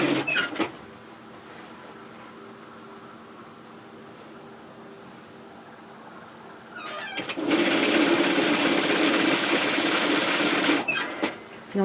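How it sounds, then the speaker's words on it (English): Domestic sewing machine stitching the centre back seam of a relaxed pullover hoodie, starting with a back tack; a low steady hum runs throughout, then louder continuous stitching for about three seconds near the end. "Make sure you back tack and start stitching down that centre back."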